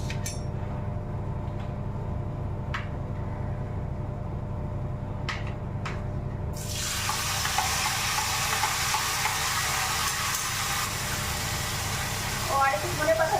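Tomato, ginger, green chili and coriander leaves hit hot oil, and a loud, steady sizzle bursts in about halfway through. Before that there is only a low hum and a few light clicks, and a voice speaks.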